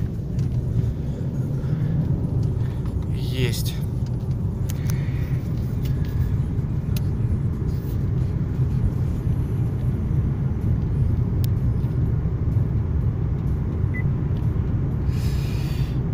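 A car drives along a bypass road near Simferopol, Crimea, its steady broadband road rumble continuing throughout at moderate level, with a brief spoken word and no clear single pass-by peak.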